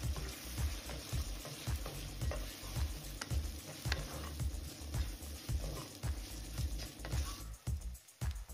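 Chilli powder and ginger garlic paste frying in a pot for jackfruit biryani, a dense crackling sizzle with regular rhythmic stirring scrapes, close and steady until it quiets near the end.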